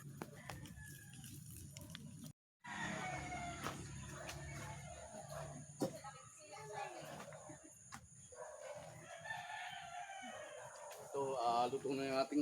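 A hen with newly hatched chicks clucks and squawks in short bursts amid background voices and household noise, with a sharper agitated cry near the end as she pecks someone.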